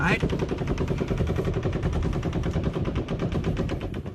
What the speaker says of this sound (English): He fires his 12th and final burst as Corey Langdon leaves the Mandalay.